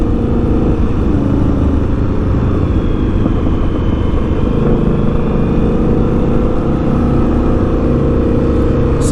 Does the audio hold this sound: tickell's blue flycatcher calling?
no